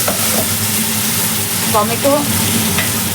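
Spiced potato and pointed gourd fry in a pan, giving a loud, steady sizzle with scraping stirs throughout, close by, while someone talks briefly over it.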